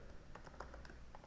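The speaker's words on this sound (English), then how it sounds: "So I'm going to start typing void setup." Typing on a computer keyboard while coding an Arduino sketch, a quiet patter of light, irregular key clicks close by.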